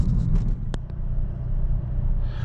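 A Hyundai i30N on the road, heard from inside as a steady low rumble of engine and tyres with a few faint clicks, continuous and moderately loud, no talking.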